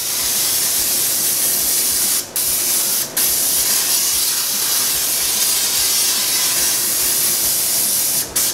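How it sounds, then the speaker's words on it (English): Non-stick cooking spray hisses steadily into an Instant Pot as a long continuous burst of about eight seconds, broken by a few brief pauses where the nozzle is released, close and fairly loud with no talking. "You're gonna spray it with some non-sticking spray."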